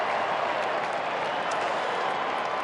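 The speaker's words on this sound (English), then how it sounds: "The crowd boo." A football crowd at a 2011 AFL match between North Melbourne and West Coast boos a missed kick: a dense, steady wash of crowd noise holds for the whole stretch and sounds broad and somewhat distant.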